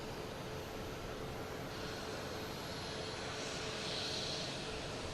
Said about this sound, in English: we have a Cape Air coming in from Martha's Vineyard, a Cessna 402.